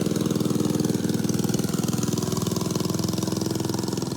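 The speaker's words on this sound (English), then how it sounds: "The guy in a tiny little scooter" The small engine of a tiny scooter idles with a steady, rapid putter, loud and close, with no voices.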